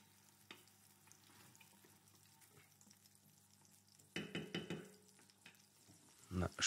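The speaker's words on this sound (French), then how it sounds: "Je fais sauter mes courgettes." Zucchini sautéing in a hot pan for ratatouille, a low sizzle with two louder bursts of stirring and scraping toward the end, no talking.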